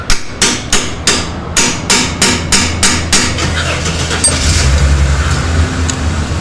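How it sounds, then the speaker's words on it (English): A hammer strikes a chisel about a dozen times in a quick, regular rhythm, knocking out a transmission tailhousing seal on a car; the metallic blows are loud and close, then give way to scraping and rumbling. "I'm just going to knock that seal out first with the bush, with the chisel"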